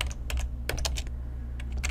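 Keys on a computer keyboard click in short irregular bursts as VBA code is typed in Excel. The typing is close and crisp, with brief pauses between runs.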